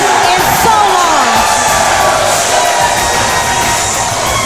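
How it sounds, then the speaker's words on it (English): Capacity crowd in a packed wrestling arena in Houston, Texas, at a Reality of Wrestling cage match, cheering and roaring loudly and continuously, with a commentator's voice over the noise. "Listen to this capacity crowd at the Walker Texas Lawyer Arena."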